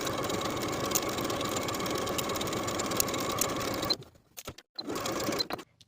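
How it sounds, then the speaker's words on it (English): A sewing machine runs steadily, stitching the long and pointed edges of a vintage apron tie, a close continuous whirring hum that stops near the end, then restarts in short bursts. "we'll sew the long edge and the pointed edge with a 3/8 inch seam allowance"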